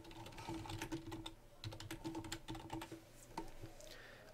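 Quiet typing on a computer keyboard while entering a title for a project: a rapid run of key clicks, a brief pause, then another burst ending in a few scattered taps.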